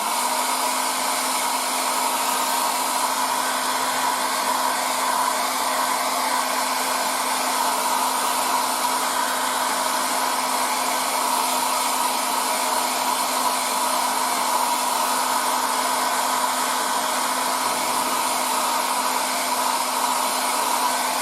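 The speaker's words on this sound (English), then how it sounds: "you can use the air dryer with Tamiya colors too" Close, loud hair dryer drying Tamiya paint on a 1:35 scale Trumpeter E-50 Standardpanzer model tank, a long unbroken airy roar with a steady motor whine that holds level for the whole stretch, with no talking.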